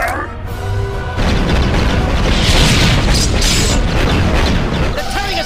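Animated Star Wars space battle with a heavy barrage of cannon fire and rolling explosions, loud and sustained for several seconds after a shouted order, with voices partly buried in the din.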